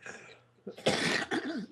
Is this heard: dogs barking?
no